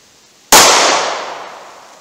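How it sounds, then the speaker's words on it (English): A single sharp 9mm +P pistol shot fired about six yards from a chronograph, loud and sudden after a brief quiet lead-in, its outdoor report decaying over a second and a half with no voices. "Let's see how the 9mm plus P does."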